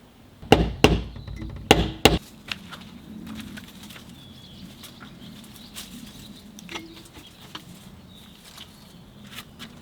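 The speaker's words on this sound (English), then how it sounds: "How far do I hammer it in?" A nail is hammered into a cottage wall with a quick cluster of sharp, close taps early on, then scattered fainter knocks and rustling over low room noise.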